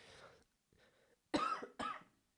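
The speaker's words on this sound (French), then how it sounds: "Excusez-moi, j'ai toussé" Several coughs from a person during a Cinema 4D tutorial: two quieter throaty bursts, then two loud, close, sharp coughs in quick succession, with silence between them.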